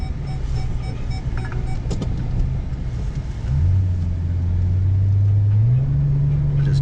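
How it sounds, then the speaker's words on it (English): A Ford ranch truck slides past a dirt driveway, its engine rumbling at a steady idle then rising into a louder, sustained drone as it revs through the back half. "Oh look, that's cool to just like slide right past the driveway."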